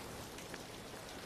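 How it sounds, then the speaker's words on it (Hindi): Rain falling in a soft, continuous hiss, faint and even for a brief moment with no voices over it. "बारिश हो रही है।"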